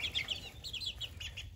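Soft, rapid chirps and clucks from a miniature Aztec rooster chick, a half OGB, half Transylvania cross with white and blackish feathers, repeating in short close bursts over a low steady hum.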